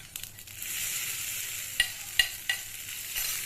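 A curry leaf and mustard seed tempering is poured into a chutney, giving a brief soft sizzle with a few sharp clinks of a spoon against the container, close and fairly quiet.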